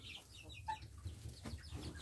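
Hens cluck softly near their nest holding eggs, short muffled calls close by over low background noise.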